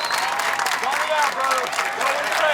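A large arena crowd at an American Ninja Warrior finals course in Orlando cheers and applauds continuously and loudly, with a commentator talking over the noise.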